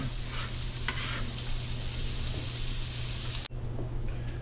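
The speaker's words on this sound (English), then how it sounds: "now we're going to render down these onions" Onions render down in a frying pan with a steady, close hiss of sizzling oil, broken by one sharp click near the end before the frying continues more quietly.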